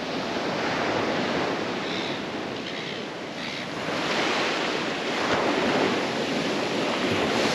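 Steady roar of wind and breaking surf on the exposed, windy shore of a tropical island, broadband and continuous with slight swells in intensity, no voices.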